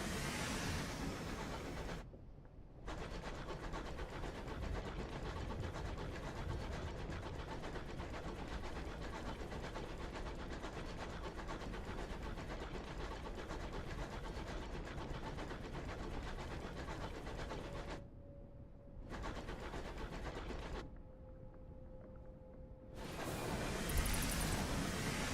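A space locomotive engine from the game Sunless Skies drones and chugs continuously, loud and steady, with brief drops to near silence near the end and a soft tonal hum, no talk.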